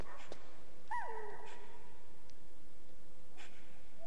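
Dogs yip and whimper faintly in a Metal Gear Solid game scene, with one short rising whine and a few soft barks over a steady background hum.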